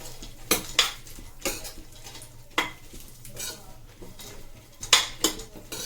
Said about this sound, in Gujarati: ઘીમાં આ રીતના બધું ફ્રાય કરી લેવાનું ને